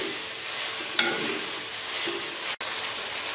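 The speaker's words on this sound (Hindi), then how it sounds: "अदरक लहसुन के पेस्ट के साथ इसे भूनते हुए मुझे तकरीबन 4 से 5 मिनट हो गए हैं" Chicken frying in a pot with ginger garlic paste for biryani, a steady loud sizzle with a few stirring scrapes and one brief break near the end.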